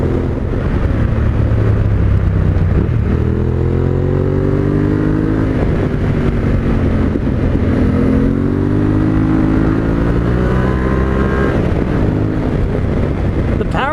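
A 2020 Yamaha Tenere 700 motorcycle is held wide open in fourth gear, its engine droning loud and steady with rising pitch sweeps through a constant roar of wind buffeting the microphone.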